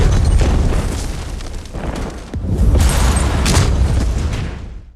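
A film's suicide bomber blast erupts as a loud, rumbling explosion that fills the whole clip, dips briefly, then surges again with crackling debris before fading at the end.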